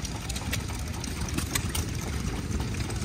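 A stationary engine runs at Tractor Fest 2022, a steady mid-pitched idling chug with faint clanks on top, close and continuous through the short stretch.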